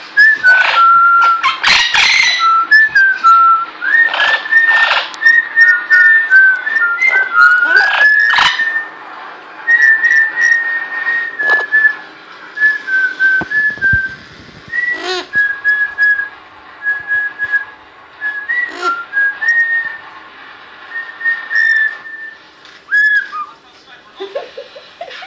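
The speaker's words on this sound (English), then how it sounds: "She did a little whistle." A pet bird whistles a string of clear, repeated warbling notes with short pauses between phrases, close and fairly loud, with occasional brief squawks mixed in.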